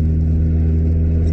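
A Toyota Starlet's small 1.5 litre engine drones with a steady, deep, throaty hum while the car cruises.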